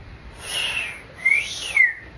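A thin, wavering whistle of wind rising and falling in pitch, with two sharper gusts toward the end, steady and fairly faint.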